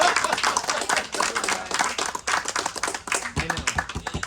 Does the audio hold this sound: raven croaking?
no